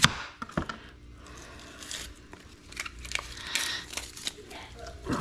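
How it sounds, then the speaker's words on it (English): Knife chopping a round onion on a board, with irregular crisp chops and crinkly cutting noises at close range over a quiet kitchen background. "Now we're going to chop some onion."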